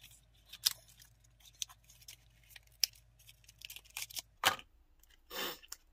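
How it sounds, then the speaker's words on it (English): Scissors trimming a strip of large, thick false eyelashes, a few quiet snips and crunchy cuts scattered across a hushed room, ending with a short rustle. "I'm probably going to have to cut quite a bit off of these."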